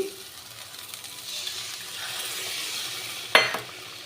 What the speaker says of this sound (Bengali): এবার আমি জল দিয়ে দিলাম আর একটু জল দেবো